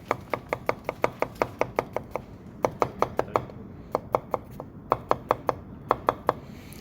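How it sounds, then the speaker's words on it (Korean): A knife scores a cucumber on a cutting board for a Japanese octopus vinegar dish, giving a rapid run of crisp, even taps in close-up bursts with brief pauses between them. "위쪽 면을 칼집을 넣고 180도로 뒤집어서 반대쪽을 또 칼집을 넣을 거예요"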